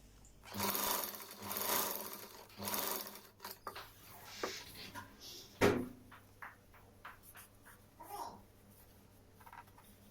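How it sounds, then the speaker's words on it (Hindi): A sewing machine stitches elastic onto ladies' trousers in loud, fast bursts, then stops and starts with short runs, cloth shuffling and handling clatter. Faint background voices are present. "इस तरह से हम पूरी में इलास्टिक के बिल्कुल पास पास से सिलाई लगाएंगे।"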